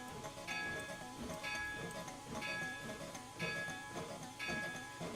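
A locomotive runs in the Railworks train simulator game, a steady rumbling drone with a periodic rhythmic clatter and tonal whine repeating about once a second, continuous and close.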